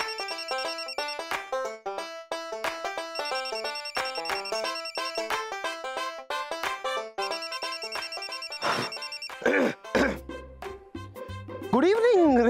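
A mobile phone ringtone goes off while someone is on a bike: a bright, repeating electronic melody plays steadily for about nine seconds, then cuts off as a person starts talking.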